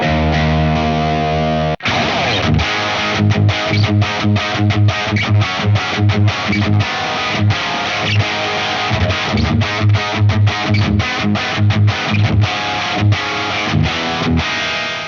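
Distorted electric guitar through an Origin Effects Revival Drive Hotrod Edition pedal plays a loud, driving riff of rapid repeated chords with a bright, fizzy top end, continuous and close.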